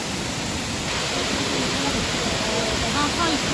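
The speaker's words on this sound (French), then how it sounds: "il vous filme bien la cascade" Waterfall on Réunion Island, a steady broad rushing roar of falling water, close and continuous, with someone talking faintly under it.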